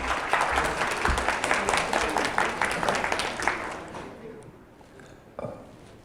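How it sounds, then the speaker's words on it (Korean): An audience at a Programmatic Korea 2019 conference applauds as a speaker is welcomed on stage, a dense burst of clapping that fades toward the end, while a voice speaks over it. "큰 박수로 맞이해 주시기 바랍니다."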